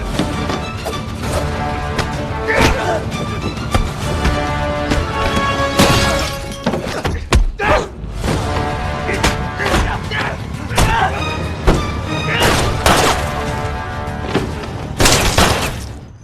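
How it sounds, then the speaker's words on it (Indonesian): Pistol shots fired repeatedly during a gangster action-film fight, sharp cracks and crashing impacts in a loud, busy soundtrack with shattering bursts scattered throughout. "Fang Ji berusaha melawannya dan beberapa kali melepaskan tembakan dari pistolnya"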